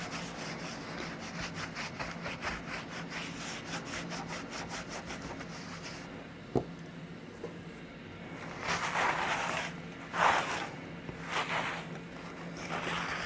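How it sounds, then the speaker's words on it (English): Clear wax rubbed by hand over pigmented wax on a wooden cheese box, a steady close scrubbing rasp with rhythmic back-and-forth strokes, followed by a few louder, separate swipes and a sharp knock near the middle. "I'm going to use some of this clear to kind of move that pigmented wax around a little bit more."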